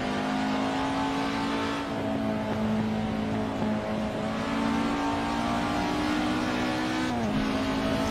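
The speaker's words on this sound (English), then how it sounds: "There we go, here comes a Porsche." A Porsche race car drives past on a circuit, its engine droning steadily with a slight pitch dip and rise as it goes by, fairly distant and continuous, alone with no talking.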